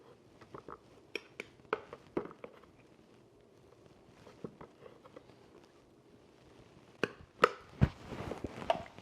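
Flour spooned into a measuring cup, a series of soft scraping taps and clinks of the spoon against the cup, irregular and close, with a busier cluster of clatter near the end.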